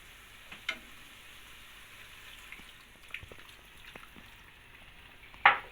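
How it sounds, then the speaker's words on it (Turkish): Veal cooks in a pan on a stove at a quiet, low simmer, while a cup of water is poured over the meat. A few soft clinks come from a utensil, and a sharp hissing burst of sizzle rises near the end. "Şimdi etimizin iyice de pişebilmesi için bir su bardağı kadar üzerine su ilave edeceğim"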